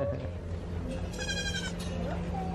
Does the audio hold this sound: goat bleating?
yes